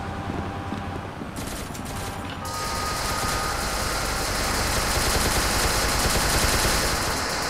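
Sustained automatic gunfire from guns in the SCP: Secret Laboratory video game, a continuous rapid rattle of shots that grows louder and denser, close and heard alone.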